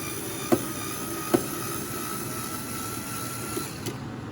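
An electric screwdriver runs in reverse, loosening worn screws, with a steady, faint motor whine broken by two sharp clicks early on and a few softer ticks later.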